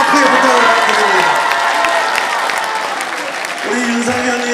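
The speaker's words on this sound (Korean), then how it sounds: "그렇게 생각하시는 분은 박수 한번 크게 부탁드립니다." An audience at a Korean political party book-launch event applauds loudly. Dense clapping mixed with some cheering fills the hall, dips briefly, then swells again near the end.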